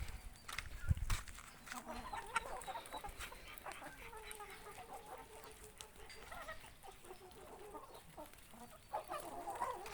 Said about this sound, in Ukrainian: Ось такі індики.